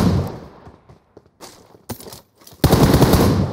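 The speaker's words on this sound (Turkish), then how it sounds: "Dur bu hem botu vurayım hem de mermi alayım oradan." Gunfire erupts in the mobile battle game PUBG Mobile as a player shoots at a bot: loud, close bursts of rapid automatic shots, broken by short pauses, ending in a sustained volley.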